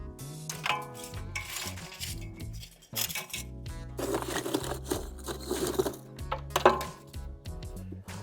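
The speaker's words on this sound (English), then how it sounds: "putting enough lump charcoal to cover the bottom of this, the bottom of the grate inside of the charcoal basket" Lump charcoal tumbling and clattering into a metal charcoal basket on the grate of an offset smoker, a run of close, irregular clinks and rattles with a few sharper knocks.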